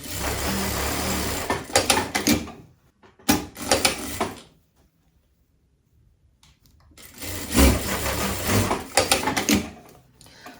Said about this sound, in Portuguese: Aqui eu tô costurando o ombro do outro lado.